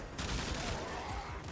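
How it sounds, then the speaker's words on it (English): In the Warframe video game, gunfire comes as a brief dense burst of overlapping shots, moderately loud, over background game noise. "Guys, stop shooting it."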